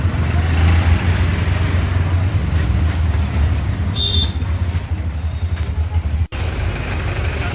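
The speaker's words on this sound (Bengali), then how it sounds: "এই ট্রেন থেকে নেমে অটো করে যাচ্ছি এখন হসপিটালের দিকে" Steady road-vehicle rumble of an auto rickshaw ride to a hospital after getting off a train, a continuous low engine drone with passing traffic around it and a brief dropout near the end.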